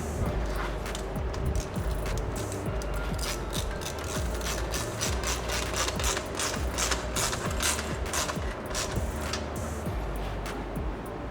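A ratchet wrench tightening bolts while a TOMEI titanium exhaust is installed, giving a close, continuous series of rapid clicking ratchet strokes in repeated bursts over a background of workshop noise.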